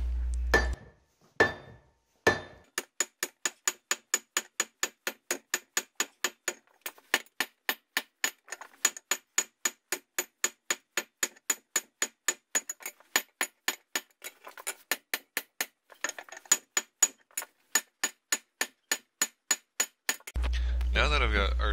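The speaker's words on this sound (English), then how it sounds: "From hitting the steel over the horn of the anvil, I get an arch in the steel." A hammer strikes steel over the horn of an anvil while a bearded hatchet is forged, dozens of sharp ringing blows in a fast, steady rhythm, close and loud after a few opening strikes.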